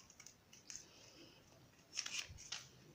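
Scissors snip through fabric pieces being cut for a pleated standing peplum, a few quiet, separate clicks with a louder cluster of cuts toward the end.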